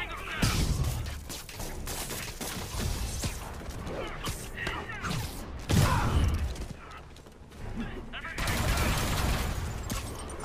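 Enemy gunfire and combat clatter in Marvel's Spider-Man video game, a busy mix of shots, mechanical clanks and impacts over a steady action score, with voices talking beneath.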